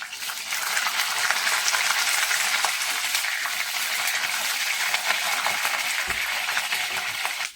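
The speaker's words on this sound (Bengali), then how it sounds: "কপিগুলো ভালো করে না ভেজে নিলে গলে যাবে, তাই আগে কপিটাই আমি ভেজে তুলে নিই।" Cauliflower florets fry in hot oil in a pan for a vegetarian khichuri, giving a steady, loud, dense sizzle that carries on unbroken throughout, with a brief soft knock near the end.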